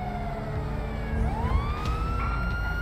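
A police siren wails from a Mercedes AMG police car in GTA V, its pitch sweeping up and down continuously over a loud engine and road rumble, close and unbroken.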